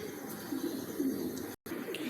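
Soft, low cooing of pigeons in Lahore runs steadily in the background, with a brief dropout near the end.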